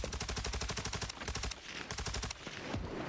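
Rapid automatic bursts from an STB 556 assault rifle in a video game on Rebirth Island, crisp evenly spaced shots in two long strings separated by a brief gap, loud and close, with no voices.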